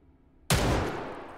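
A single sharp gunshot fires in the VR shooter Hot Dogs, Horseshoes & Hand Grenades, bursting in loud and close after near silence, then trailing off in a long, broad echoing decay.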